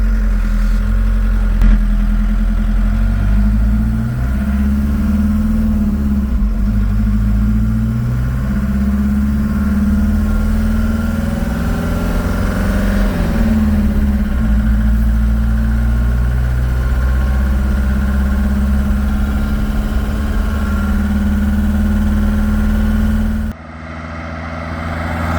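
A VW diesel-powered Chevy S10 pickup runs with a steady, loud, low engine drone whose pitch shifts slightly partway through, then drops off abruptly near the end.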